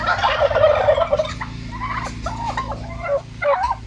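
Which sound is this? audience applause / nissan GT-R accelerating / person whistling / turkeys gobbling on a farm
turkeys gobbling on a farm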